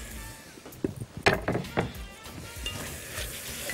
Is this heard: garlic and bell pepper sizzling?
yes